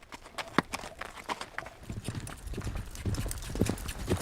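A horse's hooves clip-clop in a steady walking rhythm on a trail through the Arizona desert, close and clear with no one talking.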